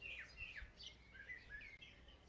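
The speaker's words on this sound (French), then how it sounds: "ce petit enfant qui entend le son de ce merle pour la première fois" A blackbird sings in faint, distant, fluttering phrases of bright chirps and whistles, with short pauses between them and no voices.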